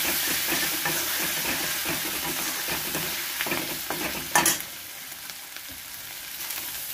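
Ginger paste with coriander, cumin, turmeric and dried chili dropped into hot oil for a Bengali banana flower dish, a loud steady sizzle that flares briefly with stirring, then settles to a quieter fry.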